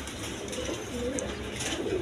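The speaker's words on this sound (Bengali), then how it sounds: "বিভিন্ন কোয়ালিটি আরও কবুতর আছে।" Low, soft coos from pigeons in a loft of assorted breeder birds with young come in a couple of rolling phrases, faint against a steady background hiss.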